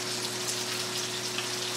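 Pork chops sautéing in a hot pan, a steady close sizzle and crackle with constant hiss and a low hum beneath, no talking.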